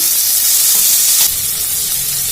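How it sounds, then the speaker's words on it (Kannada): Mustard seeds and dried chillies frying in hot oil in a pan for rasam: a loud, close, continuous sizzle with dense crackling throughout and a slight shift midway, with no talking. "ಸಾಸಿವೆ ಆಯ್ತು, ಡ್ರೈ ಚಿಲ್ಲಿ ಫ್ರೈ ಮಾಡಿ ಫ್ರೆಂಡ್ಸ್"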